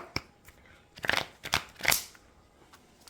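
Oracle cards from a witch-healer themed deck being handled and laid face down, a few soft papery slides and taps, close and quiet, with no talking.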